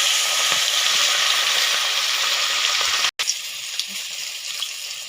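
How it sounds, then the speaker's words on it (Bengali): Pieces of bhola fish being turned over as they fry in oil in a wok, a continuous close sizzle that cuts out for an instant, then resumes a little quieter, with no voices. "আমি মাছটিকে উল্টে পাল্টে ভেজে নেব ভালো করে"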